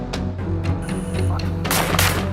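Rifle fire during a wild boar hunt in a forest, with several sharp shots cracking out in quick succession and a louder burst near the end, each echoing through the trees.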